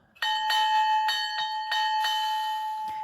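A bright model train locomotive bell, from a USA Trains S4 with an ESU sound decoder, rings repeatedly in quick, even strikes, its clear tone sustaining and overlapping, close and loud with no talking.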